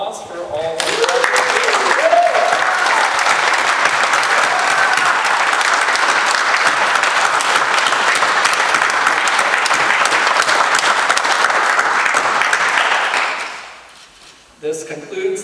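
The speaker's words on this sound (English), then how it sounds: "One last round of applause for all of" A graduation crowd at a commencement ceremony breaks into loud, sustained applause that holds steady for a long stretch before tapering off near the end, with faint voices at the edges.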